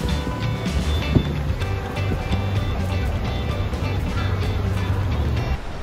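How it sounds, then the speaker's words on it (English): Ambience at a ferry pier: a steady, close wash of broadband noise with a low rumble, traffic-like hum and faint lapping, continuous with no clear individual events. "Okay, everybody, we are now at the ferry pier."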